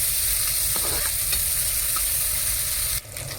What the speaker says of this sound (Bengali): পেঁয়াজ ভাজা হয়ে গেছে, পেঁয়াজের সাথে আলুটা তুলে দিয়েছি, একটু ভাজা ভাজা করে নিচ্ছি